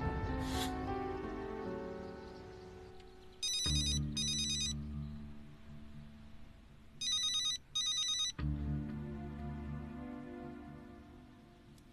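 An old-style telephone rings in two double bursts several seconds apart, bright and clear over a quiet background of sustained music.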